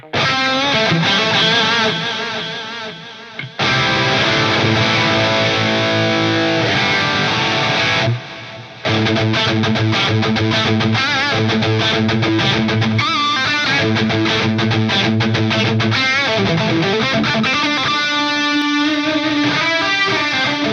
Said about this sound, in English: But I want to hear stereo echo 2 to 3.